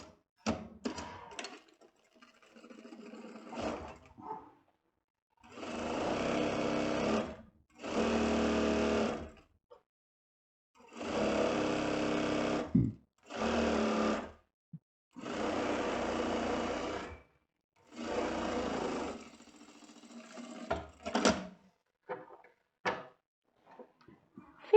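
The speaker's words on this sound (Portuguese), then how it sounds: "Agora vamos passar uma costura no centro-costa de 1 centímetro." Stitching bursts from a sewing machine sewing a 1 cm center back seam on a buckled vest run in several steady whirring runs of a few seconds each, separated by pauses with small handling clicks, close and moderately loud.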